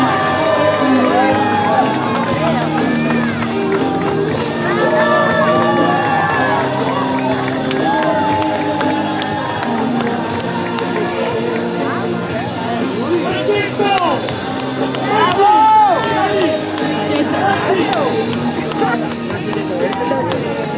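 Crowd cheering and shouting at the finish of a Giro d'Italia Donne women's cycling stage in Val Trompia, a dense, continuous roar of many voices with whistles and calls rising and falling throughout.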